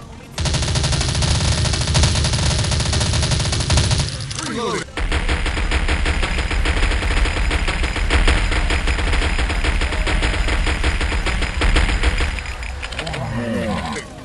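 Sustained fully automatic fire from an MP7A1 submachine gun in the shooter game Crisis Action, a loud, dense rattle of rapid shots running almost unbroken, with a brief gap before a second long burst.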